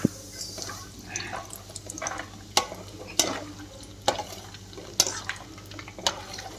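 Peanuts frying in hot oil over a full gas flame, stirred in a pan: a low bubbling sizzle punctuated by regular sharp clinks and scrapes of the spoon against the metal, close and quiet.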